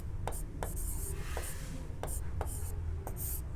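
Chalk or a marker strokes across a classroom board in a few short scratchy bursts, close and fairly clear over a steady room hum.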